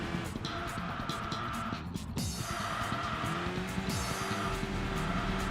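Race cars roar through a hairpin in the Enthusia Professional Racing video game, engines droning steadily with repeated tire squeals and skids layered over the continuous mechanical whine.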